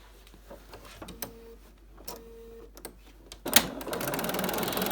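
A sewing machine stitches a cloth face mask, starting with soft clicks and short whirring bursts, then running steadily in a louder, close mechanical buzz.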